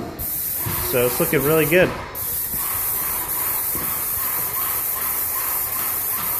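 Paint sprayer hissing steadily as it coats a textured wall and trim during a home renovation, a continuous close spray running under a short burst of talk near the start.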